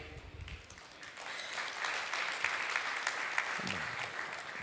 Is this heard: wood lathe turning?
no